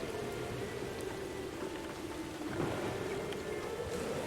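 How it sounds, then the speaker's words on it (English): A rain sound effect plays as a steady, dense wash of falling rain with a low rumble underneath and a brief swell partway through, constant and without voices. "But he might leave you standing out in the rain."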